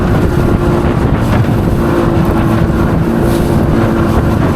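Steady loud drone of a 30 hp outboard motor pushing a jon boat through rough bay water, with constant low-end rumble and wind buffeting throughout, no talking.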